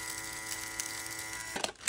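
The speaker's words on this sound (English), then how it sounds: "Then we have this vacuum. Let's see if it'll power on." A toy vacuum runs with a steady, buzzing electric motor whine at close range, then a few plastic clicks and rattles are heard near the end.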